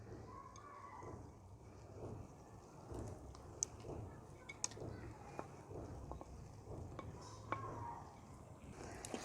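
A spoon stirs roasted dry fruits into thick makhandi halwa in a pot, giving faint, irregular scrapes and soft metallic clinks against the pan over a low background hum.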